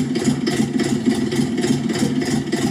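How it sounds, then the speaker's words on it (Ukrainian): A small three-cylinder diesel mini tractor engine idles at low revs with a rhythmic, lumpy chugging, loud and close, pulsing evenly for a few seconds. "Чого трициліндрові так працюють? Це на низьких оборотах майже всі трактори так от."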